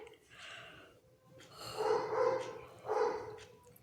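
A dog barks several times in short bursts at moderate distance in a household setting, with the barks spaced irregularly and a faint background hum between them.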